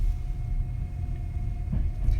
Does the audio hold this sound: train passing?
yes